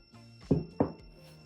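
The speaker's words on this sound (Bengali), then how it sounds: "5 মিনিট পর আমি পোলাওটি বের করে নিচ্ছি।" A bowl of white pulao is lifted out of a microwave oven: two quiet, close knocks of a glass or ceramic bowl against the oven, with low hum between them and no talk.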